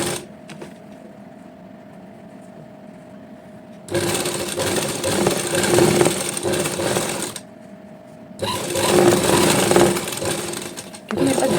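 A sewing machine stitches a heavy Patiyala salwar in two long bursts of rapid, steady stitching, separated by a short pause over a low background hum.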